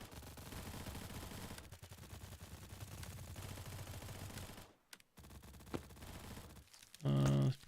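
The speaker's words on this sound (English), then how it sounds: "I'm getting shot from everywhere. There's like 5 people shooting me." Dense gunfire from several players in the shooter game Stalcraft, sustained rapid bursts, then a brief gap and a few isolated shots before a loud tonal burst at the end.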